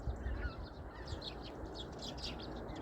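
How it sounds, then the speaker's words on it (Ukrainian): Geese flying overhead in a V formation honk in a loose series of calls, somewhat distant, over a steady broadband background rumble like wind or water, on a winter morning. "Подивіться, скільки гусей летить."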